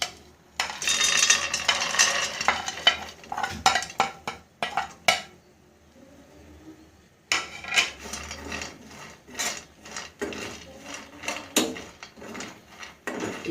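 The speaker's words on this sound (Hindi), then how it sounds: "ये ड्राई फ्रूट को मैं 2 मिनट के लिए रोस्ट कर लूँगा" Dry fruits for chikki tossed in a pan, with repeated scraping, rattling and clinking of nuts against metal in bursts, a short quiet gap in the middle, then more stirring.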